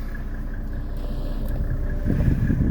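A 1995 Mercedes E300 diesel idles steadily nearby with an even low rumble, and the sound grows slightly fuller toward the end.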